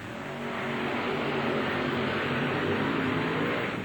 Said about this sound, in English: He'll be going up against Tom Nyhus in the Rude Awakening vehicle, rear engine against front motor.